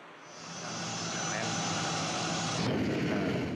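A private jet, a Gulfstream G650ER, produces a loud, steady engine roar that swells early on and then holds as a broad continuous rush.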